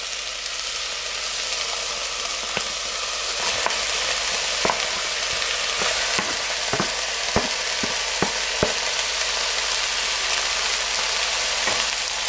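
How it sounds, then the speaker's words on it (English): About a pound of beef mince sizzles loudly in a hot pan for chili, a steady dense frying hiss with occasional crackles and pops and the scrape of stirring, with no talking. "And to my pan I'm going to add my beef mince."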